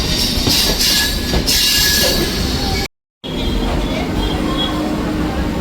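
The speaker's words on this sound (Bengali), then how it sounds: "ট্রেন আমাদের ছেড়ে যাচ্ছে টিকিয়াপাড়া" A local train departs a station, rolling along with steady rumbling and a high metallic wheel squeal; the sound cuts out briefly midway, then the rumble continues.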